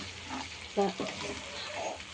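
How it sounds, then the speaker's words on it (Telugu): A spoon stirs chicken masala curry sizzling and frying in a pan over a medium flame, with a scraping stir and a steady close hiss, and a brief louder clatter partway through. "మొత్తం కలిపేసుకుంటున్నా మధ్య మధ్యలో కలుపుకుంటూ కారం వేస్తున్నాం"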